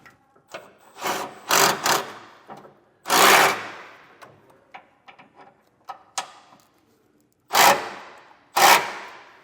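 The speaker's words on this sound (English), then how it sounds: "we're going to take a 7/32 and we're going to go ahead and tighten these bolts up" A 7/32 socket tightening bolts on rear air helper springs fitted to a 2022 Ford F-350 Super Duty, heard as bursts of ratcheting and scraping metal separated by short pauses and small clicks, close and fairly loud, with no talk.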